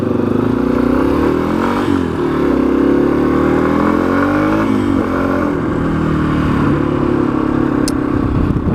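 A dual sport motorcycle rides along trails with a loud, steady engine drone, close to the rider, the pitch rising and falling through gear and throttle changes without pause.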